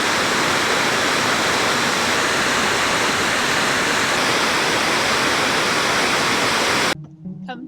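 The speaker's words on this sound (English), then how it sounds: "after a short but steep climb, we have a waterfall" Waterfall near Whangārei, New Zealand, reached after a steep climb on a rainy day: a loud, constant roar of falling water, close and steady, ending abruptly when outdoor sounds take over.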